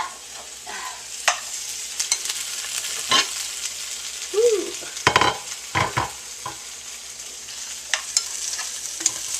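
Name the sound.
vegetables browning and sizzling in a pan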